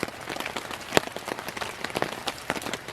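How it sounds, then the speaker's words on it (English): Rain patters on a tent fly in the woods during a thunderstorm on a canoe camping trip, a dense, close crackle of drops with a few sharper hits, steady and without voices. "especially if it keeps on raining."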